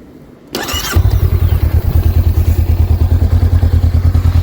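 A Rebel motorcycle engine cranks briefly, then fires and settles into a loud, rapid, steady idle pulse close by, with no talk.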